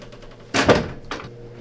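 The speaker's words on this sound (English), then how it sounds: "Shut the door." An office door is pushed shut with one firm thud, close and moderately loud, followed by a softer knock or latch click a moment later, with faint room noise around it.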